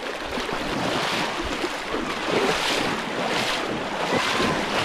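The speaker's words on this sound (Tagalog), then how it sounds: "Pagkalakas ng Agos." A strong river current rushes continuously in a loud broadband roar of churning water, with wind buffeting the microphone and no voices.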